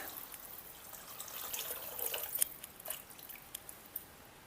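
About a litre of water splashes and trickles into a pot of tomato rasam, soft at first and building to a louder stream with scattered drips and sloshes near the end.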